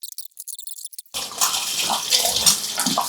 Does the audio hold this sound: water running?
yes